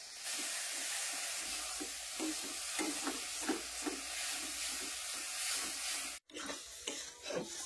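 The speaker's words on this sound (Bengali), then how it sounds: "সুন্দর করে আমি আমটা ভাজে নিলাম তেলে" Raw mango pieces frying in plenty of oil, no water, for a mango chutney, a steady faint sizzling hiss broken by gentle regular stirring scrapes, with a brief cut near the end.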